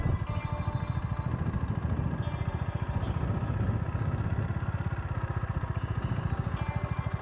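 Honda GB350 motorcycle engine thumping steadily at close range with a rapid, even single-cylinder pulse while riding through figure eights, loud and continuous with no speech.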